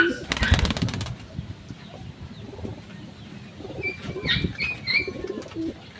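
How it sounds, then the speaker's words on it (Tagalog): Pigeons in a backyard, some with clipped wings, burst into a brief loud flurry of wing flaps, then coo and murmur softly at a distance among faint ambient noise. "Yan mga kalapatids."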